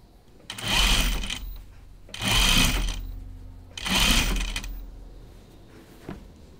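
A sewing machine stay-stitches the outer fabric of a jacket in three loud bursts of about a second each, separated by short quiet pauses, followed by a faint click near the end.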